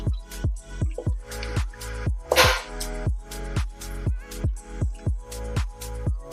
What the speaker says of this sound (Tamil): இப்போ பருப்பை நல்லா மசிச்சு விட்டுக்கலாம்